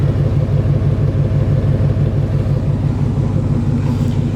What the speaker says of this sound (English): Kind of hear the exhaust.